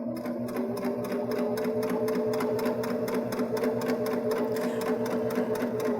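A Baby Lock Jazz II sewing machine runs steadily while topstitching, its motor hum and rapid needle clatter holding an even, continuous rhythm close by throughout with no pauses.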